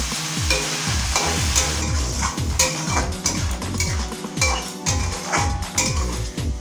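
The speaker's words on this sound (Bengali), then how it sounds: "ভালো করে একটু নেড়ে চেড়ে নেবো।" Fish curry with lentil dumplings and potato being stirred in a pan with a spatula: steady repeated scraping strokes against the metal, with a low simmering sizzle throughout and occasional clinks, close and fairly loud.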